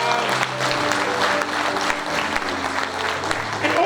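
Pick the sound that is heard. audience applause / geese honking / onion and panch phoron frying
audience applause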